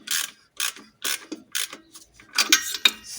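Ratcheting on an exhaust manifold clamp of an Alfa Romeo 1.9 Mjet engine, about eight short metallic clicking bursts in an uneven rhythm, close and fairly loud, with no speech.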